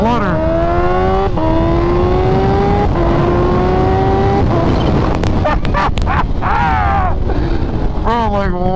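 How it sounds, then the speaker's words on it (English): A Kawasaki Ninja H2R sport bike roars loudly up close, its engine pitch climbing through gears before choppy fluttering bursts from the supercharger, with a voice talking over the constant wind and engine noise. "listen to that supercharger flutter"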